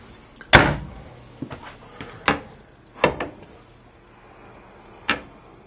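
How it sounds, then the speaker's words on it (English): A pan drawer beneath the cooktop in a 2013 Heartland Landmark Mesa RV kitchen slides and bangs shut, giving several distinct wooden thumps and clacks spaced over a few seconds in a quiet room. "you have a nice size pan drawer down underneath here"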